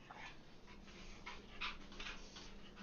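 Quiet, close dog panting in a bar setting: soft rhythmic breathy puffs with faint whimper-like tones, no talking.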